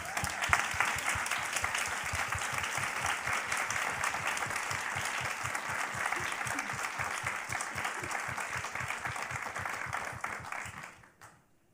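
An audience at an education panel gives sustained, even applause that stays full and steady for roughly ten seconds before tapering off quickly to silence.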